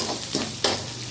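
Oil sizzling in a pan as food is stirred, a short close crackling hiss with a couple of scraping stir strokes.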